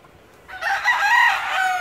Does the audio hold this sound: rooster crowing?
yes